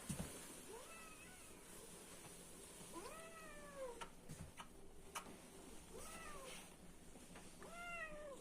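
A pet cat meowing indoors at home, four drawn-out, plaintive meows spaced a couple of seconds apart, fairly close and clear over a low steady background.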